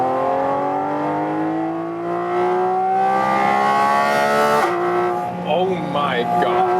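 A 2022 Porsche 718 Cayman GT4 RS engine and special air intake accelerating hard, a loud rising howl that climbs steadily through the gears with a brief shift break, heard from inside the car.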